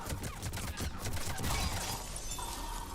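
Rapid turret gunfire in the video game Mass Effect 3: a quick train of sharp, crackling shots over the first second or so, then a denser metallic rattle that fades into a steady mechanical hum.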